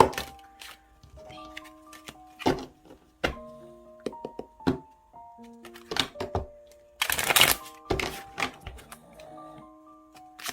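Tarot cards being shuffled and drawn: irregular soft slaps, taps and riffles of the cards, quiet and close, with a brief denser shuffle near the middle.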